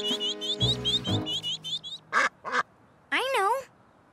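A cartoon mother duck quacks urgently about her trapped ducklings beside a dried-up pond, a run of nasal, bouncy quacks followed by a few sharper, wavering calls, close and clear between short pauses.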